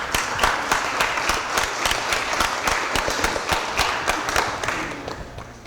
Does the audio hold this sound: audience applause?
yes